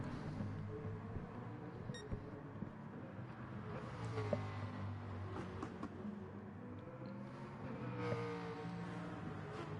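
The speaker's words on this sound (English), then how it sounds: "Thanks to the really loud rotary engined 787B." Rotary-engined Mazda 787B race car in GT Sport, a faint, buzzy engine drone with shifting pitch and passing cars in an endurance race, heard at a distance under low game noise.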